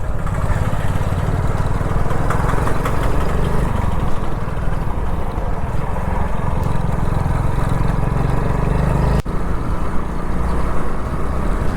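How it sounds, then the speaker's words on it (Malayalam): A mini tractor's engine running steadily in a green tea-estate area, a loud continuous low mechanical drone with a rough, even chug throughout. "ഒരു മിനി ട്രാക്ടർ പോലുള്ള സംഭവം"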